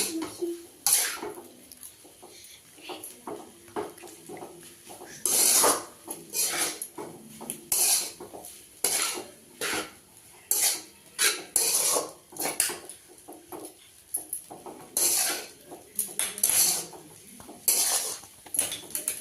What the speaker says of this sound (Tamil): கொஞ்சம் வந்து உதிரியாக வர வரைக்கும் இது கலக்கி விடணுங்க.